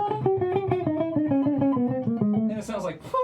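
Electric guitar in a drop-tuned metal style picks an angular scale lick, a quick, close run of distinct notes stepping mostly downward with even attacks, ending in a brighter burst of notes.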